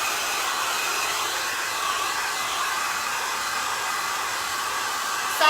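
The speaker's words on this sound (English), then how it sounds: "I'm going to dry it with the hair dryer one more time." A hair dryer runs steadily throughout, drying metallic paint on a striped finish, with a constant close, loud whooshing blow and no speech.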